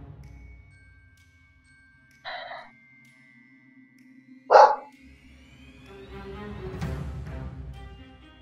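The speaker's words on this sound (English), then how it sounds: "my dog was barking" A dog barks twice indoors, short sharp yelps spaced a couple of seconds apart, the second louder, over a quiet background with faint electronic tones and a low hum as other noise rises afterward.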